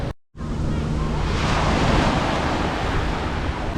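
Sea waves roll onto a beach near Dwarka, making a loud, steady wash of surf with wind buffeting the microphone. The roar stays unbroken after a brief cut at the start.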